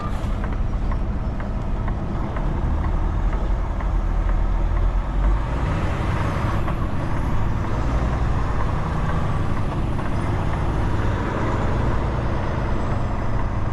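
A truck engine drones steadily on the road, a loud, continuous low rumble with broadband road noise throughout, heard from inside the cab and with no talking.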